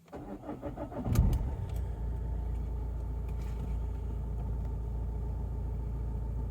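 A Vauxhall Astra Mk5 engine cranks briefly, catches with a loud burst and settles into a steady, low idle rumble close by, with no talk.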